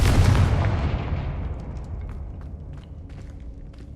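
A Confringo blast spell in the Hogwarts Legacy game bursts in a heavy booming explosion that rolls off and decays over a few seconds, followed by faint scattered debris clicks.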